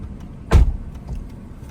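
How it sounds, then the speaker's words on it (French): A car approaching from the opposite direction passes in one brief, loud whoosh about half a second in, then fades into steady low road rumble heard from inside a moving vehicle. "il y a une voiture qui arrive en face"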